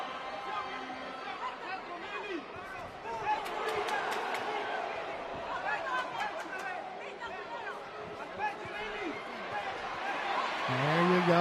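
Boxing arena crowd cheering for fighter Keling Fonseca during a scheduled eight-round bout, a steady roar of chatter with rising oohs and shouts, rather distant and swelling toward the end, with a commentator talking over it.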